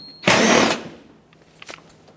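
A powered driver with a 5.5mm socket spins out a fender liner screw on a 2000-2005 Ford Excursion: one loud, close whirring burst lasting about half a second, then a faint tail of small clicks.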